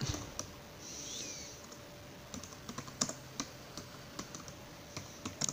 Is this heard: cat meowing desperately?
no